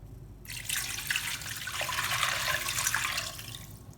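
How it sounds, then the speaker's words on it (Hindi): Water pours into a pot holding half a chicken for soup, a steady splashing rush that swells and then tapers off, with no voices. "मैं उसी हिसाब से ये पानी ऐड करूँगा"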